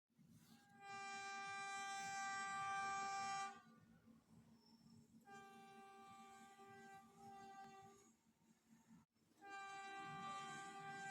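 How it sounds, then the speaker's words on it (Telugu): Train horn on a passenger train, three long loud sustained blasts separated by quieter gaps with rumbling rail noise underneath. "ఇక్కడైతే ఒక 10 minutes లేట్గా అలా స్టార్ట్ అయింది ట్రైన్"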